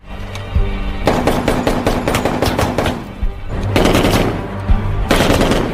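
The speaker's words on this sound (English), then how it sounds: "While practicing his shooting skills, Rap also cannot control his emotions and shoots at someone else's shooting board." Rapid bursts of gunfire at a shooting practice range in a 1982 Rambo First Blood action film, loud repeated volleys in clusters with short pauses between, no talking.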